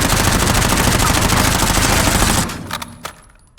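Loud, rapid automatic gunfire from a weapon test on a firing range in Warzone, a dense sustained burst that cuts off abruptly and is followed by a few sparse clicks and echoes.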